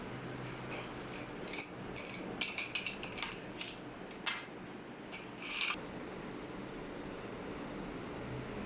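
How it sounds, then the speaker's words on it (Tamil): A knife cuts food in a home kitchen, making a scattered run of quiet, irregular crisp clicks and taps close by, then stopping, leaving soft background hiss with no talking. "ஒன்று எடுத்து நான் கட் பண்ணுறேன்."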